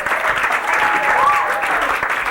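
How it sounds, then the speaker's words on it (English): A comedy club audience at The Strip in New York applauds a stand-up comedian. The clapping is loud and continuous, with a faint tone and crowd murmur mixed in. "Give it up for Dina Pearlman, everybody. Clap for Dina Pearlman."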